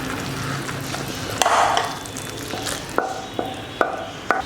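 Thick corn flour Bombay halwa is scraped out of a pan into a ghee-greased dish with a sticky, close scraping, followed by four or five sharp, evenly spaced spatula taps against the vessel.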